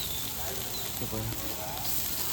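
Garlic, chopped cabbage and carrot hit a hot pan for soup at a food stall, a faint steady sizzle with a few soft clatters of vegetables dropping in, close but low in level.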